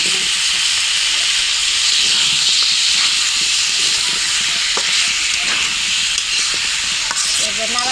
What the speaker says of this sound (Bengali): পটলটা এখন আমি একটু কষিয়ে দিচ্ছি মাংসের সাথে।